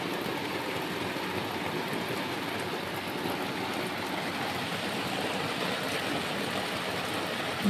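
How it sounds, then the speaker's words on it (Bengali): Heavy night rain pours in a dense, unbroken hiss of drops striking surfaces, steady and fairly close for the whole stretch, with no voices over it. "ভীষণ বৃষ্টি হচ্ছে গাইজ।"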